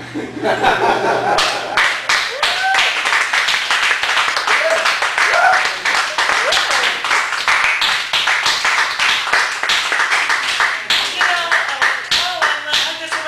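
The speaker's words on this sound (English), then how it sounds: "I don't think that was enough applause" Audience clapping at a Chicago cafe spoken-word and comedy feature, dense hand claps running steadily throughout with scattered laughter and chuckles mixed in, fairly close and loud.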